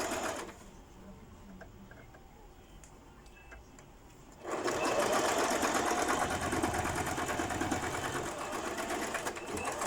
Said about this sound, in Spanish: damos unas 3 puntaditas. Seguimos cosiendo.